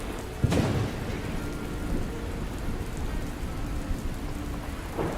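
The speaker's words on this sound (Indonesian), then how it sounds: "Ini hujan" Heavy rain pours steadily in a dense, even hiss, with a dull thump near the start and a low rumble running underneath throughout.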